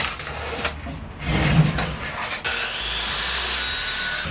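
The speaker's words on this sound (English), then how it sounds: "I have the 1/2 inch loaded here in the panel saw." A panel saw cuts through a half-inch board, with some handling knocks and scrapes before the blade settles into a steady, continuous whirring cut for the last couple of seconds.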